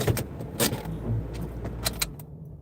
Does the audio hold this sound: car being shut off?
yes